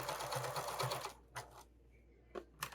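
Sewing machine basting fabric, a close rapid stitching burst of about a second followed by brief short runs and pauses.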